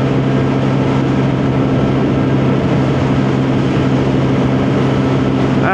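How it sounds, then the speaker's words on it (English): A Lexmoto Diablo motorcycle engine gives a loud, steady drone held at full revs without letup, dense and continuous throughout. "That is absolutely full bore. Revs to the max."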